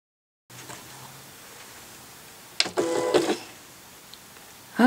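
A printer whirs and clatters in short mechanical bursts for about a second, then goes quiet before another brief mechanical noise near the end.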